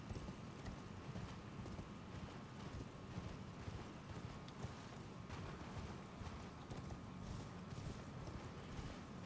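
Horse hooves gallop in Elden Ring, a steady, quick clip-clop running through the whole stretch at low volume over a dense game soundscape, with no one talking.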